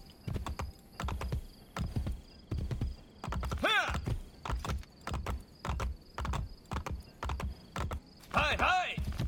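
Hooves clip-clop in rhythmic bursts as a horse gallops in Assassin's Creed Brotherhood, with two whinnies rising over the steady pounding of the hoofbeats.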